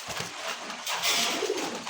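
Pigeons at a market selling local and foreign breeds coo softly in a short, low burst, close by, with a faint background hiss and no talk.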